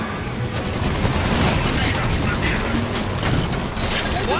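Dense gunfire in the Halo 5 Guardians video game, rapid overlapping bursts and mechanical clatter in a continuous loud barrage with only brief lulls, close and busy with no clear talking over it.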